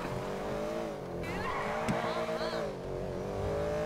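Cars race in a GTA V online race, engines droning loudly with shifting revs and a brief tire squeal, a voice talking over the roar.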